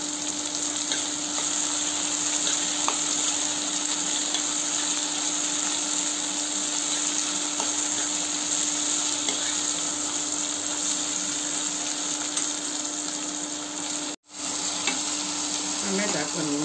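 Chopped ginger sizzling and frying in a pan for avarekalu uppittu, a steady close hiss of hot oil that holds through the whole stretch with a brief dropout near the end, with no voices.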